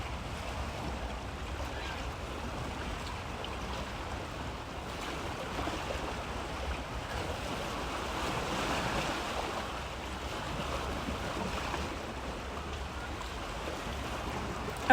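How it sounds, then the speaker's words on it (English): Beach surf breaking against rocks, a continuous wash of waves with wind rumbling across the microphone, steady and moderately loud throughout. "listened to the waves crashing into the rocks and the seagulls"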